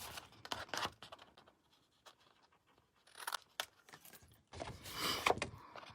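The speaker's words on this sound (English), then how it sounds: "I'm going to go just outside both of the score lines and cut an angle to that intersecting point there." Blade slicing through card paper at an angle outside the score lines for a slimline card envelope, heard as short scratchy cuts close up, separated by quiet gaps, with a longer rasping cut near the end.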